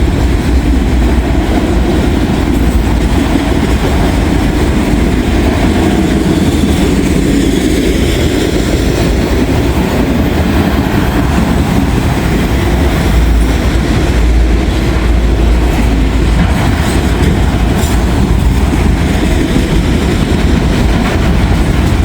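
A coal train rolls past on the railway in a loud, steady, unbroken rumble of wheels and cars that lasts throughout, close by, with no voices.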